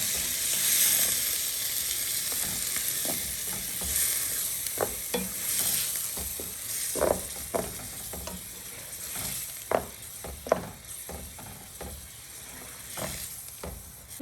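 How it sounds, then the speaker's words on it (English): A steady sizzle of minced meat sauce for spaghetti frying in a pan, with scraping utensil strokes stirring at irregular intervals over the hiss. "Then we're going to stir."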